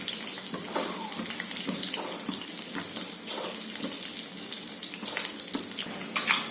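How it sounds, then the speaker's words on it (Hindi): Potatoes and eggs fry in hot oil, giving a continuous crackling sizzle with scattered sharper pops, fairly close and steady throughout with no talking. "अब इन दोनों को ही मैं तेल में फ्राई कर लेती हूँ।"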